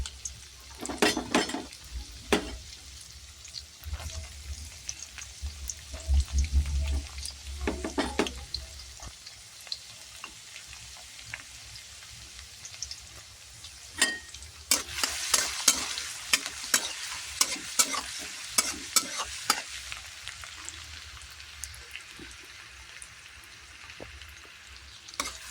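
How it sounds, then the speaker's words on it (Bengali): Chopped garlic and ginger fry in a pan, giving a soft continuous sizzle broken by clattering stirring and scraping strokes of a utensil against the metal, louder in bursts. "এতে একে একে রসুন কুচি আর আদা কুচি"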